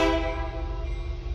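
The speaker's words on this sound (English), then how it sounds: "I'm next to a train track." A train horn blasts from a nearby railway track, loud and sustained for the whole moment, its steady chord fading only slightly toward the end.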